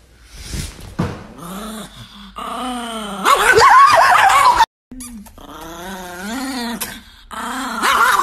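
Up close, a small Chihuahua's sustained, wavering growls and whiny snarls come in several loud stretches separated by brief breaks, punctuated by sharp yips.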